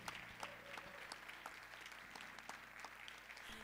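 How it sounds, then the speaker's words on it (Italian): An audience at an evening concert claps steadily and densely, a continuous wash of many hands from a moderately distant crowd, with no voices over it. "Possiamo fare un grande applauso a Corinne Hugonen al violino,"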